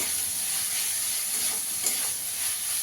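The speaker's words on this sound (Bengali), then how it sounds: "মশলাটাকে একটু ভালো করে কষিয়ে দেবো।" Ground spices frying in a pan with oil for a pepper chicken dish, a steady close-up sizzle and hiss, slightly louder at times as the mixture is stirred, with no talking.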